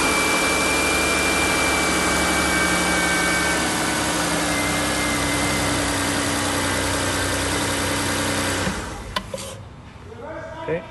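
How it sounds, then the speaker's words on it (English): A car engine runs at a steady, loud idle right after a timing belt repair, with a smooth even drone that cuts off abruptly near the end, leaving faint clicks and workshop noise. "we're going to start the car right now to make sure everything is running, everything is smooth"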